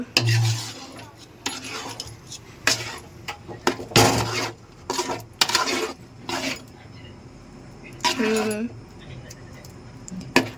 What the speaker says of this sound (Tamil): கை விடாமல் நல்லா கிண்டு.